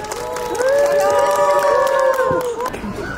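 A crowd at a school in Jerusalem cheers and claps loudly in welcome. Sustained shouted voices ring out over the clapping, then fade toward the end.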